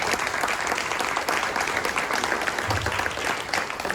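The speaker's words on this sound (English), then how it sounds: "Let's give that a round of applause." A crowd at a San Diego Comic-Con panel applauds, giving a steady, even round of clapping that fills the whole stretch without any talk over it.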